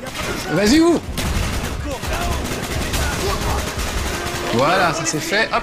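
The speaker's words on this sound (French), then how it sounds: "le minigun, très bien" Minigun fire in Call of Duty: Black Ops, a dense continuous roar of rapid shots running under someone speaking French throughout.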